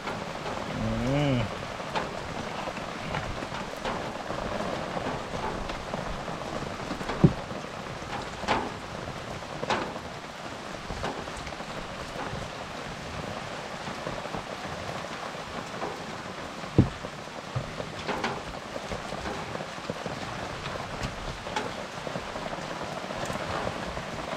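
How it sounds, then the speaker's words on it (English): Steady rain patters on a surface throughout, with a few sharper drops and knocks standing out now and then. "A little rain, you know."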